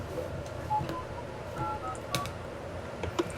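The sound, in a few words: phone ringtone like Super Mario or Zelda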